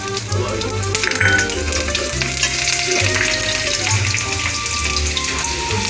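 Sugar, cumin, clove, cinnamon and green chili fry in hot oil, giving a steady close sizzle with scraping stirs and bursts of crackle throughout, and no voices.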